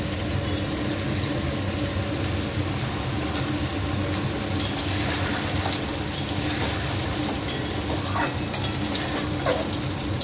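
Brinjal fries in hot oil in a home kitchen pan, producing a continuous dense sizzle at close range, steady in loudness with a few faint clicks and no voices.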